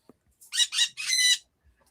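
A rooster crows once nearby, a loud, clear, three-part call with a drawn-out final note, surrounded by silence.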